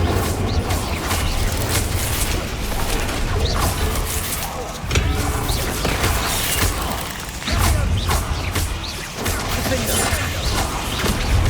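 Fire spell Incendio cast amid combat in Hogwarts Legacy, a loud dense burst of crackling, whooshing game effects with thuds and impacts running throughout, over continuous battle noise.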